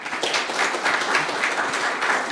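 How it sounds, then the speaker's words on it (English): An audience at a talk on Australia's new space industry breaks into a brief round of applause, dense steady clapping close by that fills the whole moment. "So please give a quick round of applause to Grace."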